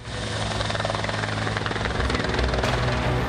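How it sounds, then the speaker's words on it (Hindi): A helicopter flies in to land commandos during a Pakistani army and police response to an attack on a university. Its loud, steady rotor and engine roar fills the whole stretch without a break. "हेलीकॉप्टर से कमांडोज को भी उतारा गया"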